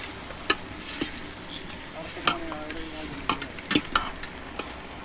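Chilli powder fried in a pan while being stirred, soft sizzling broken by sharp scrapes and taps of the spoon against the pan, close and fairly quiet.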